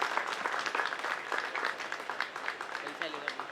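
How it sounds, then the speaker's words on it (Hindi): A hall audience claps loudly to welcome a poet and lyricist at a music video launch event, with dense, steady applause running throughout and a voice faintly heard over it. "पुरजोर तालियों से इस्तकबाल करें।"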